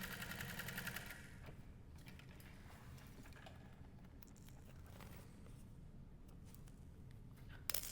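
A sewing machine runs a basting stitch along a handbag seam, a soft, steady mechanical whirr and rattle heard up close. A louder burst comes at the start.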